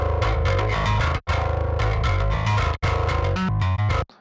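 A heavy rock track plays loud and dense through an attack-focused distortion setting, with chugging guitars and pounding drums broken by two abrupt stops.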